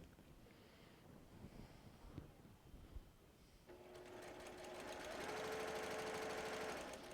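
Sewing machine stitching a quilt panel, starting faint and muffled, then running as a loud, steady whirring drone in the second half, with no talking.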